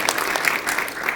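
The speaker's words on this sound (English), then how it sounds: "So round of applause for him, please." An audience applauds a United States Army pilot at a 2019 Atlantic Resolve event; steady, fairly loud clapping fills the whole moment without a break.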